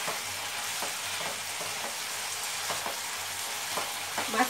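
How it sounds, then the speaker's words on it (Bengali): Mushrooms stir-fried over a high flame, hissing and sizzling steadily in the pan, with soft periodic scrapes and taps as they are stirred constantly; close and fairly quiet. "হাই ফ্লেমে অনবরত এটাকে নাড়তে হবে।"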